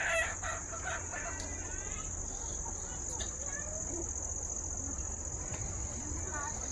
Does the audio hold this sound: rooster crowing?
yes